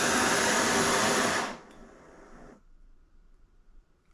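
A cheap adjustable camp stove burner roars with a loud, broad hissing flame for about a second and a half, then drops sharply to a softer hiss and fades to near quiet.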